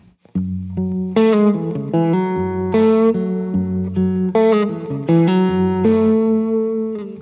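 A short fingerpicked guitar lick of plucked notes, each ringing with sustain and a slightly distorted tone, played in a moderate melodic phrase.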